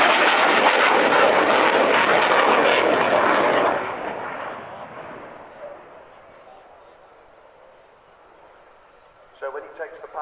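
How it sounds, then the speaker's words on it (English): A loud, roaring Avro Vulcan XH558 jet bomber passes close by along the runway during an air show display at RIAT 2015, its rumble fading into the distance, with brief sounds at the end. "So as Kev brings the Vulcan in along the runway, along the display line"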